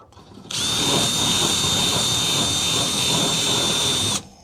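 A power drill runs steadily for about four seconds, widening a hole in a fiberglass panel on a 1975 Chevy G30 van, its loud, close whine starting and stopping abruptly with no talk over it.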